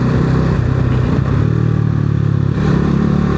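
A motorcycle engine runs loud and near, a steady low throbbing rumble with slight dips in pitch, no voices over it.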